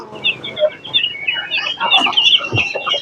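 Rhode Island Red chickens being fed cluck and squawk in a dense overlapping flurry of short calls, close and lively, with a low thump near the end.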